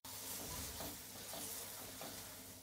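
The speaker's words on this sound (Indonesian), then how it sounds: "Panaskan minyak, goreng bumbunya." Ground spice paste fries in hot oil in a pan, giving a steady loud sizzle with faint stirring scrapes, and no one talks.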